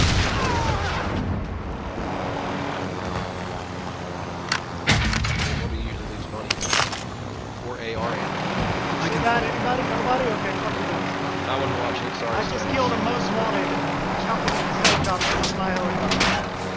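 Booming blasts and sharp cracks of video game explosions and gunfire, loud and repeated, with voices talking over the chaos.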